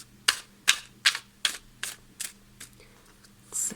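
Tarot cards are tapped and picked one at a time, about seven sharp papery clicks at a steady rhythm over a faint low hum, with no talking.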